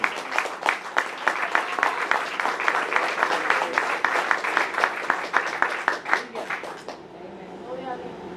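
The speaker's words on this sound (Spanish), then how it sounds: "Dale un fuerte aplauso, señor." Congregation applause during a church sermon, a lively run of rhythmic, fairly synchronized clapping with audible crowd noise, ending abruptly near the close as the room falls quieter.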